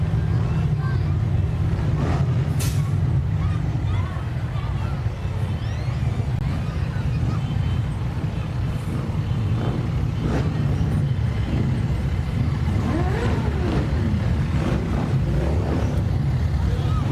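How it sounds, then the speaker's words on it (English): Motorcycle engines from a riders' group idle and rev in a Halloween parade in Cumberland, Maryland, a loud, continuous low rumble with occasional throttle swells, heard outdoors under crowd noise and an announcer talking. "if you hear those engines revving"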